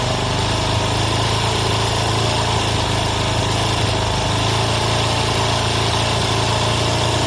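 A TVS Apache 160 RTR motorcycle engine runs loud and steady at close range during an idle adjustment, its speed rising only slightly with no talk over it.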